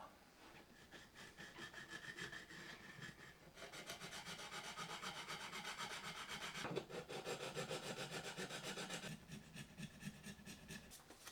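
Stainless steel guitar frets rubbed with erasers, a steady close scratchy rasp with continuous back-and-forth friction, briefly pausing and resuming in strokes with no voices.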